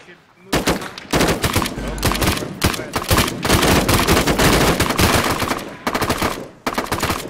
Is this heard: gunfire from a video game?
yes